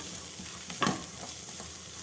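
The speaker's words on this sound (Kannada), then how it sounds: "ಈ ತರಕಾರಿಗಳನ್ನ ತುಪ್ಪದಲ್ಲಿ ಸ್ವಲ್ಪ ಬೇಯಿಸ್ಕೊಳ್ಳೋಣ. ಸ್ವಲ್ಪ ಚೆನ್ನಾಗಿ ಫ್ರೈ ಆಗಲಿ ಇದರಲ್ಲಿ." Mixed vegetables with sweet corn and fresh green peas frying in ghee, a steady soft sizzle with one clear stir or scrape in the middle, no speech.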